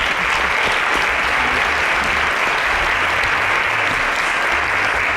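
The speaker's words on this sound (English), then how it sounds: "Deserve a round of applause again." A room full of people applauds after a presentation, dense, loud, even clapping that holds steady throughout without a break.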